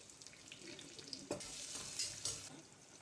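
Onions frying in hot oil with cumin and red chili in a pressure cooker: a faint, soft sizzle with a few brief clatters from stirring, no talk.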